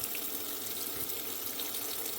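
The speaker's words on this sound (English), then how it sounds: "Then we're just going to fill them up with some water." Tap water running into a pot of collard greens, a constant close hiss and splash with no pauses or voices.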